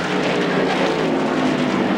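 A stuck NASCAR stock car at Watkins Glen revs its engine hard with wheels spinning, producing a loud, continuous roaring drone with no letup.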